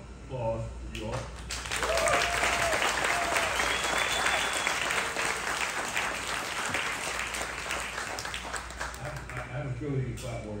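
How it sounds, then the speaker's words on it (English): Staff at a PWC Service Authority gathering break into loud, sustained applause lasting several seconds, with brief talking heard at the start and end. "just one big loud applause for you all"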